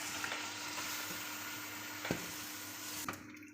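Chicken sizzles steadily in masala with yogurt while being fried for a daigi korma, with a constant close frying hiss and a couple of brief stirring scrapes in the pan.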